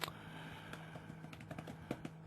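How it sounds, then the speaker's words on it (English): Keys clatter on a computer keyboard in quick irregular taps, quiet and close, over a low steady electrical hum. "Sorry for the typing."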